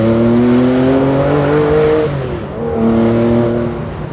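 A Theon Design resto-mod Porsche 911 Targa, lightweight with carbon parts and 407 bhp, pulls up a steep hill in second gear, its engine droning near and loud, the pitch climbing, dipping briefly at a shift, then rising again.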